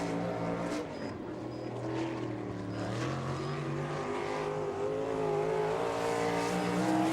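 Non-wing 305 sprint cars roar continuously around a dirt track toward the checkered flag, a loud steady engine drone rising in pitch as the cars accelerate, distant and unbroken, with no voices.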